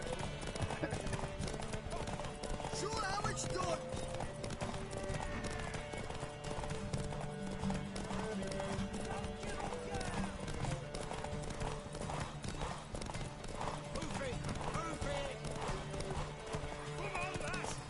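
Galloping horse hooves in the video game Witcher 3, a continuous fast drumming rhythm throughout, close and steady beneath music and occasional talking voices, with a faint neigh mixed in.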